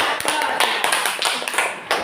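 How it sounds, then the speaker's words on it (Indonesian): A classroom of students claps for classmates after a group discussion, a dense burst of applause lasting throughout, with voices mixed in. "Kasih aplaus untuk teman-temannya yang berdiskusi ya."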